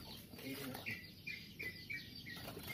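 A small wild bird just caught by hand gives a series of sharp, high chirps at a steady rhythm, with faint fluttering and soft background noise, close but quiet.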